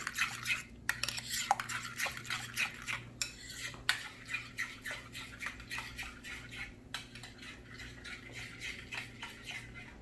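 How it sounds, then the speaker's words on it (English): Ingredients being mixed in a bowl in a home kitchen for an Indian kids' recipe, giving a steady run of clinks and scrapes from utensil against bowl, close and fairly loud, with no talking. "So we will mix it all together."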